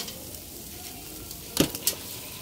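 Hotdog sizzling on a grill at a beach cookout, a quiet steady hiss of frying with a couple of brief clicks or scrapes near the end.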